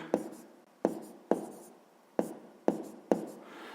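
A pen taps and scratches numbers onto paper while solving a fifth-grade math exercise, six sharp, evenly spaced strokes, close and quiet, with no talking.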